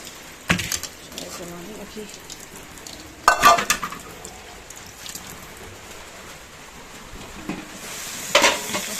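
A faint, steady crackle of something frying in a pan, punctuated by a few louder clattering bursts near the start, middle and end.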